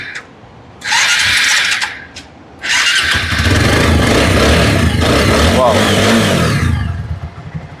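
A used motorcycle at a second-hand bike showroom in Chittagong starts with a loud burst, cuts out briefly, then restarts and idles steadily, running close by with some voices in the background.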